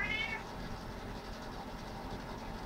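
A house cat gives a single short meow right at the start, fairly close and clear, then the rest is a low steady room hum with no voices.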